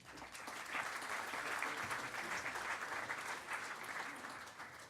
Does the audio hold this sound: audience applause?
yes